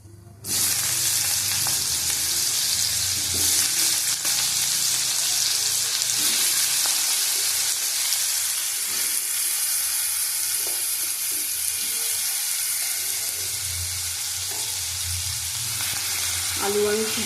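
Boiled, drained potatoes hitting hot oil with black cumin seeds in a pan, bursting into a loud, dense, continuous sizzle that holds steady throughout.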